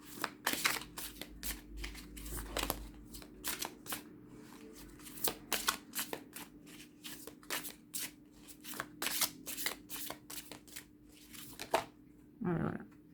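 Tarot cards shuffled by hand in a quiet room, a run of crisp, rapid riffling bursts with brief pauses between, close and soft, ending with a faint low voice.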